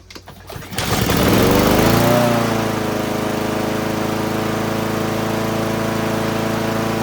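A Honda GCV160 lawn mower engine catches with a rising roar, then settles into a steady buzzing idle that runs on evenly for several seconds, close by, with no talking.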